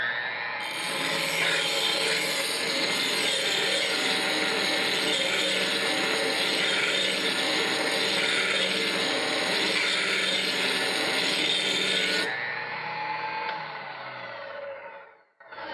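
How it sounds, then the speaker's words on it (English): A knife sharpening machine runs at speed 7 while a cleaver is drawn across it to cut a new bevel, giving a steady loud grinding whine that lasts about twelve seconds, then winds down and cuts off. "turn the machine on, sharpen this cleaver"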